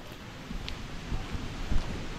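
Heavy rain pours in the forest on the Dudhsagar trek, a close, full downpour with low rumbling swells and rustling bursts rising and falling.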